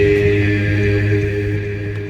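A phonk vocal sample drowned in heavy reverb and delay, a sustained tonal wash with layered harmonic tones that hold steady and slowly fade, loud and alone with no talking.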